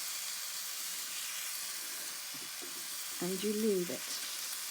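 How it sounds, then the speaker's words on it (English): Vegan Thai green curry paste sizzling and frying in a pan, a steady hiss that continues while a person speaks briefly near the end. "Leave it to fry off."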